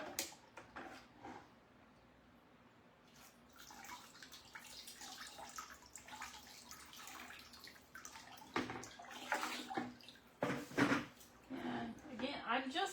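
Tap water runs intermittently over a sheet of marbled stiff paper being rinsed, with soft splashing and handling clatter rising and falling, heard fairly quietly beside faint room sounds.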